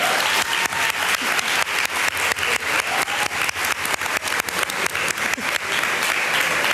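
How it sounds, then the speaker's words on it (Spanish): An audience at a science stand-up comedy festival breaks into loud, sustained applause, dense rhythmic clapping filling the room evenly throughout, with no one speaking over it. "¡Un aplauso!"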